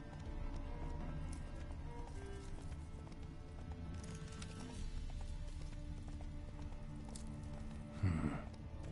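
In The Witcher 3, the horse Roach gallops in a quick, steady run of hoof beats over a low ambient bed, with a sharper thump near the end.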